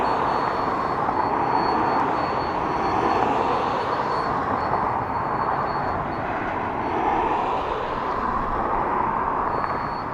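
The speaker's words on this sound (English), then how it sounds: "So 737 of Ryanair coming in from Marseille in France." A Ryanair Boeing 737 arrives at Dublin Airport from Marseille, a continuous, moderately loud jet roar that swells and eases slightly, with no voices.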